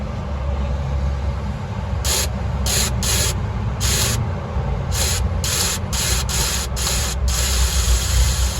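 Carb cleaner sprayed through a clogged fuel line in short hissing bursts, about ten quick blasts of uneven length over a steady low background rumble, close up with no talking.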